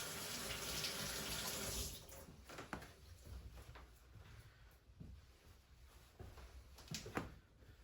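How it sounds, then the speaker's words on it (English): Tap water runs into a sink in a home kitchen as hands are rinsed, a loud steady gush that stops after about two seconds, followed by scattered drips, clatter and light handling noises. "I'll give my hands a quick rinse"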